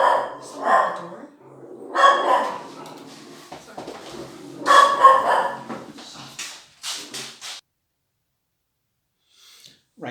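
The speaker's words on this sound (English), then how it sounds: "someone calling at the door and the dog going nuts" A dog barking excitedly at someone calling at the door, several loud bursts of barks and yips at irregular intervals, with a person talking at points, then quiet.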